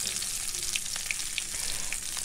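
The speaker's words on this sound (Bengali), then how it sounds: "এবার আমার মশলাগুলো ভাজা হয়ে গেছে, তো আমি এখানে আলুগুলো দিয়ে দিচ্ছি।" Potatoes dropped into a pan of fried spices for a vegetarian potato dish, giving a steady, close hiss of frying and sizzling oil throughout, with no talking.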